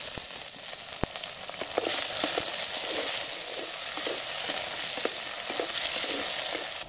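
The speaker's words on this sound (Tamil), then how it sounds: "தக்காளியும் சேர்த்து நல்லா வதக்கிக்கலாம்." Tomatoes and shallots fry in a pan for a village-style karunai kilangu tamarind curry: a loud, continuous hissing sizzle close by, with scattered pops and light utensil clicks and no talking.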